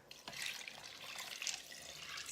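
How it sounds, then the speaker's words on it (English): Water pours and splashes into a cooking pot holding dry, hard beans, a steady gurgling stream that keeps on without pause, with no voices. "And see, they're really hard, but we're adding the water."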